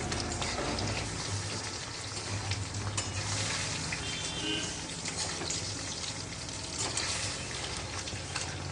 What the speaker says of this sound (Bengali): আস্তে আস্তে মুইঠাগুলো ভাজা হবে।